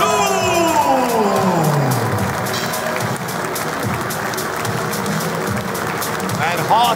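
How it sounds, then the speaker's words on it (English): A wrestling crowd in a hall applauds after a 3-on-3 tag team match, with continuous clapping and some cheering from the audience, and a commentator's voice over the top. "And hearty applause from the Turbine Haller for this 3-on-3 contest."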